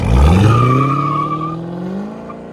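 A 2011 BMW X5 with a 4.4-liter V8, X-pipe and no catalytic converters revs hard close by, a deep loud roar rising in pitch then easing off over a couple of seconds.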